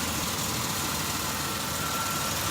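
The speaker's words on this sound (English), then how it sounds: "the engine's just settling" A Buick car engine idles steadily with a low, continuous rumble and faint vibration, unchanging throughout and without any voices.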